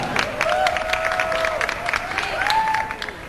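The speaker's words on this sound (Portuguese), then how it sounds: "Então vamos aplaudir novamente." Applause fills the room for a couple at a carnival gathering, steady and continuous throughout, with faint cheering voices and whistle-like calls above the clapping.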